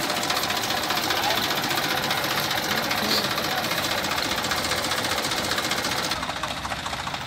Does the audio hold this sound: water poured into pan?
no